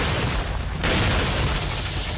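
Striker shotgun blasts and explosions in Resident Evil 4, heavy booming bursts filling the clip, with a sharp loud hit just before the midpoint over a continuous rumbling roar.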